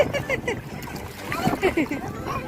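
Young child swimming and splashing in water during a swimming lesson, with irregular close splashes and sloshing under adults' encouraging talk.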